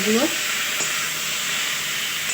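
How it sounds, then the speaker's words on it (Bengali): Chilli frying in oil in a pan while being stirred, a steady close sizzle and hiss with a short voiced sound at the start. "একটু নেড়ে নিই ভালো করে"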